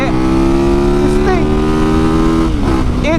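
A 450cc dirt bike engine revs hard in a steady, loud drone, its pitch climbing in repeated surges with no pause throughout.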